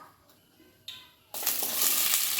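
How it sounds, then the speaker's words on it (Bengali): Okra frying in mustard oil in a wok, a bright hissing sizzle that jumps up loudly partway through and holds steady to the end, with no talking. "প্রথমে আমি ঢ্যাঁড়সগুলো একদম ভালো করে ভেজে নেব।"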